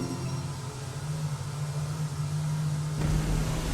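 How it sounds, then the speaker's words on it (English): A Jaguar XJ220 in the Roblox game Driving Empire races near top speed, its engine a steady, loud drone with a constant pitched hum that swells slightly toward the end, with no voices. "the Jaguar XJ220 just flying through this track just like in the first lap"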